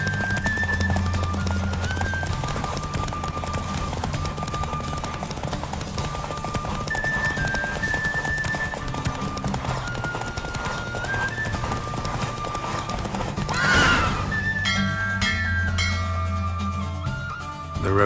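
Steady hoofbeats of a galloping horse in a race in The Witcher 3 pound continuously under music, with a horse whinnying briefly near the end.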